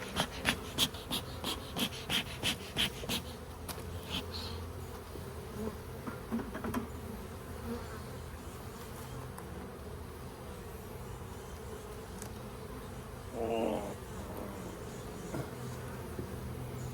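Honey bees hum and buzz around the hives of an apiary, a steady close drone with individual bees zipping past the microphone, plus a few sharp clicks early on, and no talk.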